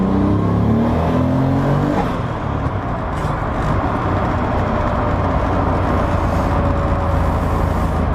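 A 600-horsepower Nissan 300ZX Fairlady engine roars loud and close, revving hard toward its rev limiter in a sustained, unbroken drone with no talk over it.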